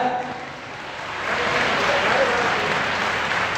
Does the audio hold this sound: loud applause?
yes